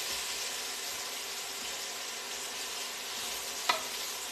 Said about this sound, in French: on mélange tout ça tranquillement. On laisse bien confire.